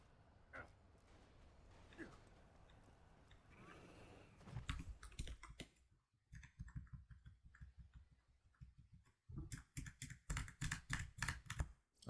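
A computer keyboard clatters in rapid runs of clicky keystrokes, broken by short pauses, with a voice speaking at times.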